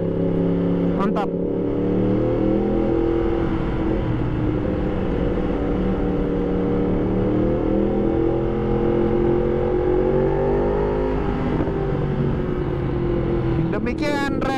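A 2020 Yamaha MT-10 SP motorcycle fitted with an Akrapovic exhaust, ridden at a steady cruise, with a continuous deep engine drone and wind rush that swells slightly mid-ride, heard from the rider's position throughout.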